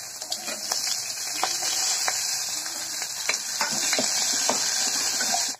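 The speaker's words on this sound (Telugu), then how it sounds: "ఇప్పుడు ఇవి ఫ్రై అయిపోయాక మనం అల్లం, పచ్చిమిర్చి, వెల్లుల్లి ఈ 3 వేసేద్దాం" Ginger, green chilli and garlic fry in hot oil with cashews in a pan for paneer butter masala: a continuous close sizzle broken by frequent scraping and tapping of a stirring spoon, without speech.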